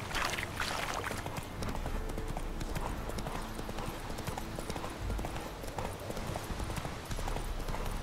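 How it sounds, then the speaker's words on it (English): Horse hooves clip-clop steadily in the video game The Witcher 3: Wild Hunt, a continuous galloping rhythm layered over dense game music and ambience. "our horse is probably gonna get stuck on the bridge"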